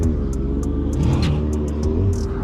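A brand-new Yamaha R7 motorcycle pulling away, its engine rumbling steadily close by with a brief rise in revs and a few light ticking sounds over the drone.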